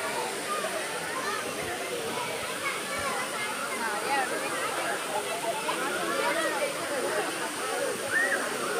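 The waterfall at Thusharagiri rushes in a constant, loud, broad roar, while people talk and a crowd murmurs underneath it throughout.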